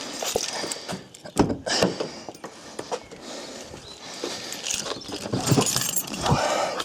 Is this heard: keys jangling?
yes